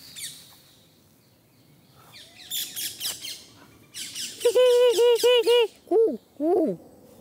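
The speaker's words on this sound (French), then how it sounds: "Ça, c'est des oiseaux des tropiques. Des vrais de vrais." Tropical birds calling in a lush outdoor setting, with scattered chirps giving way to a loud, close run of repeated rising whistled notes and a few squawking calls at the end.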